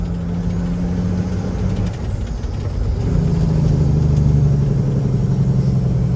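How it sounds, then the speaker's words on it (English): A truck's Jake brake engine braking sets in partway through, a loud, close, low rumbling drone that builds and holds steady, with no talk. "I'm fixing to turn the Jake brake on"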